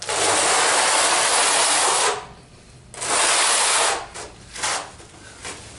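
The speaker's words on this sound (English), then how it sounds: "Now initially you can rake it, like this just to get your coverage." A notched trowel rakes mortar across a surface for a tile install, giving a loud broadband scraping stroke for about two seconds, a pause, another long stroke, then several shorter scrapes, close up with no talking.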